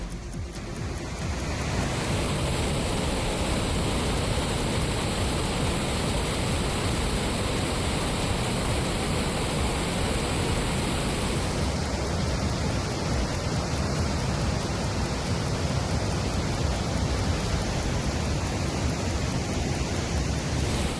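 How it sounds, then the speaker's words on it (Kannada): Water pours from all 22 gates of the Tunga dam into the swollen river below. It makes a loud, steady roar of rushing water that continues without break, with no voices. "ತುಂಗಾ ಡ್ಯಾಂನ ಎಲ್ಲ 22 ಗೇಟ್ಗಳಿಂದ ನದಿಗೆ ನೀರು ಬಿಡಲಾಗಿದೆ"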